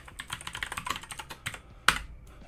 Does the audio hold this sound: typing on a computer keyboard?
yes